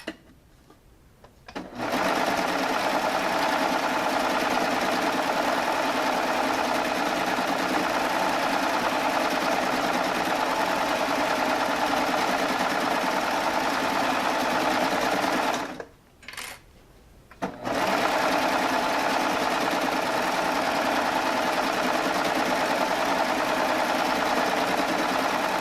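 A Baby Lock Triumph machine stitches pillow embellishments with fabric placed wrong sides together, running in a loud, steady hum for most of the stretch and stopping briefly once before carrying on.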